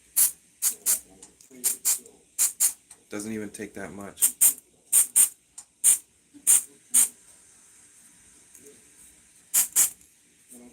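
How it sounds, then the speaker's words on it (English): Short bursts of accelerator spray hiss again and again onto super glue during woodturning top making, sharp close puffs in an uneven rhythm, with a brief spoken remark partway through. "to make sure the super glue is set, I'm using my accelerator spray"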